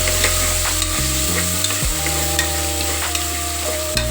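Tomato bath mixture is stirred in a pan, a loud close sizzle running beneath a spoon scraping and tapping against the metal, with no talking.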